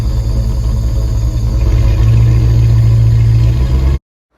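A 1961 Rolls Royce Silver Cloud II engine with a rebuilt distributor idles steadily, recorded close at the tailpipe with a deep, even exhaust rumble that stops abruptly.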